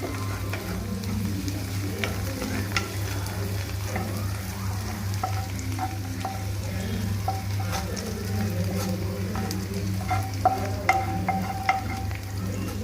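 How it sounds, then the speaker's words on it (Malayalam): Chicken sizzles in a hot pan with a steady frying hiss, while a utensil scrapes and clinks as it is stirred repeatedly. "എന്നിട്ട് നന്നായി ഇളക്കി കൊടുക്കാം ഇളക്കി കൊടുക്കുക നന്നായിട്ട്"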